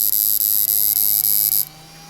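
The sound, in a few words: AK2 amplifier humming after being switched on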